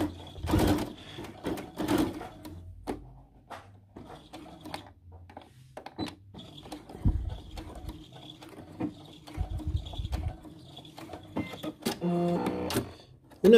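A sewing machine stitches together the two ends of cushion piping cord in several short, uneven bursts of clattering needle action, separated by quiet pauses and handling noises.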